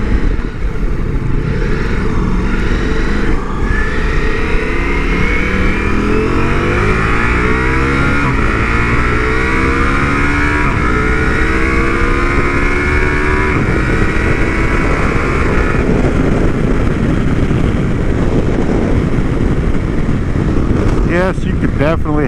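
Ducati Multistrada V4S motorcycle engine under way, loud and close, with rising and falling revs through a sequence of downshifts to first gear, steady engine and wind noise throughout, with speech over it.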